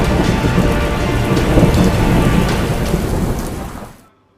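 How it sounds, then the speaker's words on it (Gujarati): Heavy monsoon rain pours down in Gujarat, a loud, steady downpour with thunder rumbling beneath it, no voices, cutting off abruptly near the end. "રાજ્યમાં પણ હાલ મેઘો મુશળધાર જોવા મળી રહ્યો છે"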